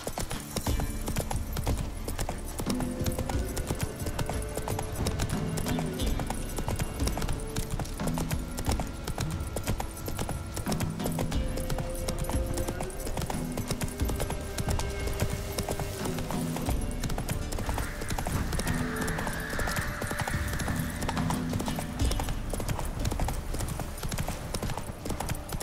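Rhythmic clip-clop of the horse Roach's hooves galloping in The Witcher 3, loud and continuous over a bed of game ambience, with a brief whinny partway through.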